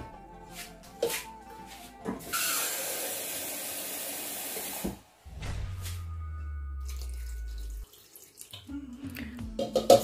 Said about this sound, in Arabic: المهم غنزيد الماء حتى يتغطى لي واحد شويه.